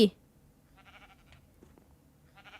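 Sheep in Minecraft give a few faint, short bleats after a sharp opening click, with soft background noise between the calls.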